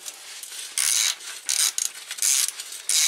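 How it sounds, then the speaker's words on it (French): Torx 45 bolt on the rear wheel of a BMW R1200RT LC motorcycle being undone with a ratchet: bursts of bright clicking ratchet strokes repeat at a steady pace, close and fairly loud, with no talk. "Ensuite en bas on va dévisser avec du Torx de 45."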